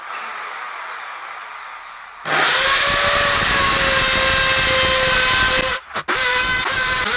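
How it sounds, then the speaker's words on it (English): A power drill bores into a wall with a loud, steady whine and grinding roar for several seconds, briefly cutting out and then resuming. "So now I am all set to drill a hole"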